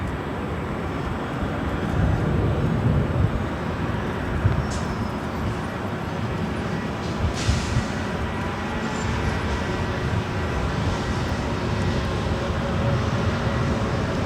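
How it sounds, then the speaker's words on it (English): A Volaris Airbus A320neo in El Salvador special livery departs LAX for San Salvador, a loud sustained jet roar rumbling continuously and evenly throughout, with no voices. "Up next is Volaris flight 4311 heading to San Salvador, and then A320 Neo in the El Salvador special livery."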